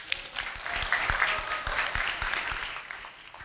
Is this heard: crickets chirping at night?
no